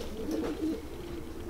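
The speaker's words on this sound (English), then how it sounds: "I'm just showing you guys pigeons" Racing pigeons coo softly in a loft, low murmuring calls overlapping in a steady, close burble with no talking.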